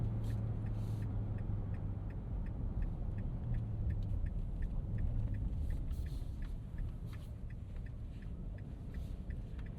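A 3.8-liter V6 in a 2025 Nissan Frontier Pro-4X midsize truck accelerates in city driving, a steady, loud low engine rumble and drone heard from inside the cab with no talking.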